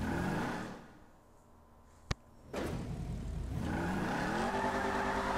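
A Ford Mustang engine idles, dips quieter, then roars back up with a sharp rev and holds a loud, throaty rumble.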